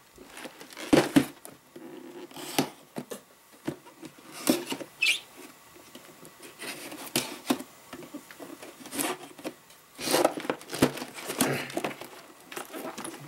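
A taped plastic model kit box, a Dragon 6764 PzKpfw IV Ausf B tank kit, is opened up close: scattered scrapes, rustles, tape pulls and cardboard rubbing come in irregular bursts with quiet gaps between.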